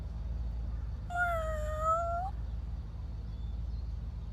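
A cartoon kitten gives one clear, drawn-out meow over a steady low background hum, with nothing else around it.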